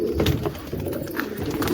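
Pigeons cooing inside a loft, soft repeated low coos that carry on steadily through the short stretch, close by and fairly quiet, with no voices over them.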